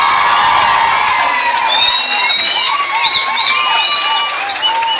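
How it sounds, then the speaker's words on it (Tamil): Audience at a Tamil political rally over the NEET protest breaks into sustained, loud applause with cheering and whoops throughout, a dense crowd clapping steadily without letting up. "கம்யூனிஸ்ட் பார்ட்டி ஆஃப் இந்தியாவுக்கு அத்தனை பேர் கைதட்டி பாராட்டு சொல்லுங்க"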